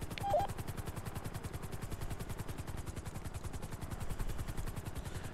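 A helicopter in a GTA video game thumps with fast, regular rotor beats throughout, steady and fairly faint, with a brief click near the start and no voices.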